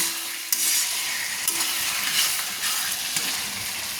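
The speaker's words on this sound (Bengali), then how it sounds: "হেঁচারি রান্না করার জন্য আমি হেঁচারিটাকে আমি কষাচ্ছি, তো ভালো করে আমি নেড়ে নিয়েছি।" Hatchery chicken meat fries in a pan with a steady sizzle while a spoon stirs it in scraping bursts, close and fairly loud with no talking.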